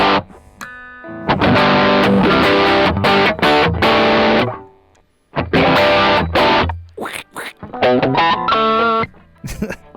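A clean Johnson JLP-75-BK electric guitar strums chords in short bursts with pauses between phrases, bright and close, no audible effects.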